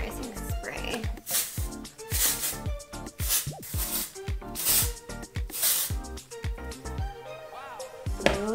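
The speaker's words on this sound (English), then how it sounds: "A little bit of texturizing spray." Texturizing hair spray hissing out in a series of short bursts with brief gaps, close by, over background music with a rhythmic beat.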